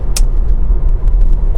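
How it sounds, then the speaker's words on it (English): An MG ZS EV electric car drives along with a steady, close low road rumble and tyre noise, with a brief hiss near the start and faint clicks throughout. "the MG ZS EV, which is what I'm driving now"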